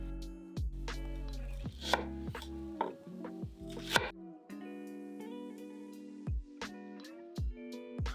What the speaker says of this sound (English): Get 2 onions, roughly cut them in quarters and put it aside.